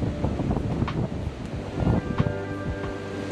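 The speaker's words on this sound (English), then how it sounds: "you hear the wind just blasting me?" Strong outdoor wind buffeting the microphone at an urban park by the shore, a continuous loud rumbling roar with gusty bursts and faint background sounds, no speech.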